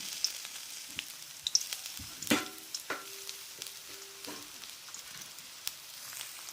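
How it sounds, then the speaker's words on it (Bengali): Chopped onion dropped into hot oil in a kadai, a soft continuous sizzle with a few clinks and scrapes of a spoon against the metal pan, fairly quiet and close. "আমার তেলটা গরম হয়ে গেছে ওর মধ্যে একটা পেঁয়াজ কেটে নিয়েছিলাম দিয়ে দিলাম"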